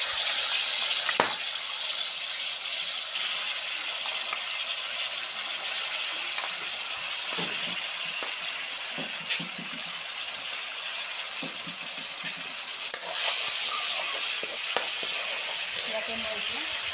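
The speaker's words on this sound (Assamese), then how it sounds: "তেল গৰম হৈ গল এতিয়া মই জলকীয়া পেষ্ট ঢালি দিছো" Chilli paste hits hot oil in a pan for dry chilli pork, giving a steady loud sizzle and crackle that fills the whole stretch, with small scrapes of stirring and no talk.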